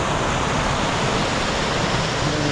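A waterfall roars in a steady, dense rush of water, loud and unbroken throughout, with no voices.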